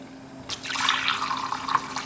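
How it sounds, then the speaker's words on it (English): Tea is poured into a cup, a steady close splashing trickle that starts abruptly after a quiet moment and runs on with a few brighter drips. "So here a cup, and what we are going to do is just pour it off naturally."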